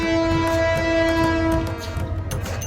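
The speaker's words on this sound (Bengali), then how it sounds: "এই যে কিশোরগঞ্জ এক্সপ্রেস" The Kishoreganj Express arrives at Bhairab Bazar railway station, its horn sounding loud and sustained, then fading into rhythmic clattering of the wheels and cars rolling along the track.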